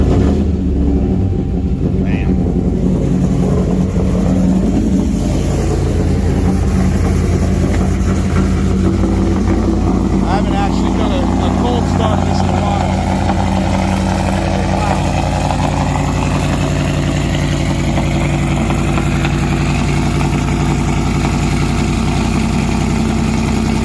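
Supercharged Ram truck engine idling after a cold start, a steady loud low rumble that holds for the whole stretch with no breaks.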